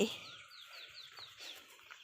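Chicken clucking faintly at a distance outdoors at a fish-cleaning spot, short bird calls and chirps over quiet ambient noise.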